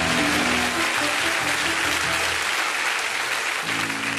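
A church audience applauding and cheering, a dense continuous burst of clapping with whoops over it, loud and close, holding steady for several seconds.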